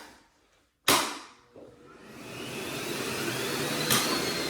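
A household vacuum cleaner switches on with a sharp clunk and quickly spins up to a steady whine. A second knock follows, then the motor settles into a loud, continuous drone nearby with no voices.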